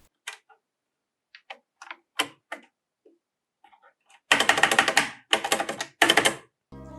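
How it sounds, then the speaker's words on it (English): Plastic stabilizers on a mechanical keyboard being typed in a sound test: sparse single keystrokes clicking and clacking at first, then three dense bursts of rapid typing with rattly, clattery key strikes, close and fairly loud. "here's a sound test of the terrible stabilizers."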